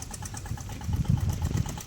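A tractor engine runs in a field near Mandvi, a close, steady low chugging with rhythmic knocking pulses that swell slightly toward the end.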